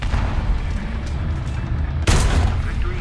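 A single loud cannon blast from an Olifant Mk.1A tank in War Thunder cuts sharply through a steady engine rumble, ringing on briefly afterward.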